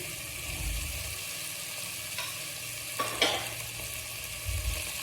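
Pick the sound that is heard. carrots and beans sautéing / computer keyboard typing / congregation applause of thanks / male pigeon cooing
carrots and beans sautéing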